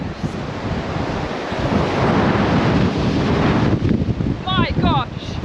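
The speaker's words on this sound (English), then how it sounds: "obviously like a wind tunnel. This is the bottom of it, so it's very, very windy." Strong wind at Winnats Pass, Castleton, Derbyshire roars and buffets the microphone continuously, loud and gusty, with a brief high whistling tone near the end.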